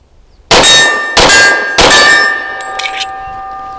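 Bullets from a Bersa B1911 .45 pistol striking a steel target, three loud ringing clangs about half a second apart, followed by fainter distant pings as the steel keeps ringing.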